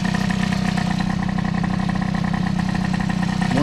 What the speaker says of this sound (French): On entend clairement que le moteur est plus libre au ralenti.